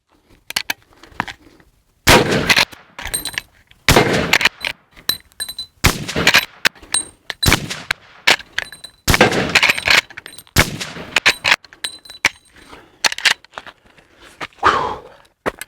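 Loud, close rifle shots from a Marlin 1895 lever-action in .45-70 Government, fired at AR-500 steel targets outdoors, come as about a dozen sharp blasts spaced a second or so apart, each followed by a ringing metallic impact.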